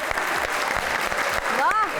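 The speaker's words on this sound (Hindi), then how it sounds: "तालियां हो जाए।" Studio audience applause after a music performance, a dense, steady wash of clapping at strong volume, with a brief voice cutting in near the end.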